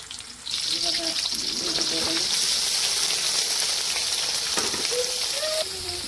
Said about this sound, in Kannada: ಆಯಿಲ್ ಬಿಸಿಯಾಗಿದೆ. ನಾನು ಈರುಳ್ಳಿ ಹಾಕ್ತಿದ್ದೀನಿ. ಗೈಸ್, ಹಸಿಮೆಣಸಿನ್ಕಾಯಿ ಹಾಕ್ತೀನಿ.